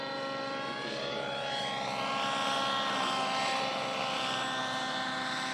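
Model helicopter flying a rainbow roll in a 3D championship set manoeuvre, its rotor and engine whine holding a steady loud drone with pitch rising and falling as the blades change angle, no talking.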